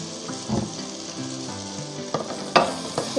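Ground coriander, cumin, red chilli powder, turmeric and crushed red chilli fry in hot oil with a close, steady sizzle, punctuated by several sharp scraping stirs of a spoon against the pan.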